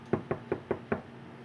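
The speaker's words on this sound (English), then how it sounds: "try to knock on something and see if he'd say come in" Five evenly spaced knocks on a hard surface, crisp and close, about a fifth of a second apart, in a quiet room with a pet parrot nearby.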